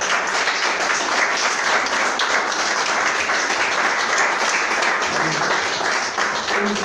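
A church congregation claps loudly and evenly during a Friday service, a dense, unbroken wall of applause that holds at a constant level throughout.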